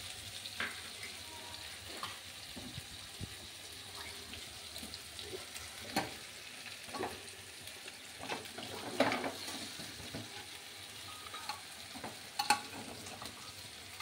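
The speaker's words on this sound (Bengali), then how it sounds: "এবার রেড চিলি পাউডারটা দিয়ে এবার আমি এটা একটু নাড়াচাড়া করে নিচ্ছি" Mutton curry sizzling and being stirred in a pot after red chili paste goes in, a steady fry hiss broken by soft scraping and stirring knocks.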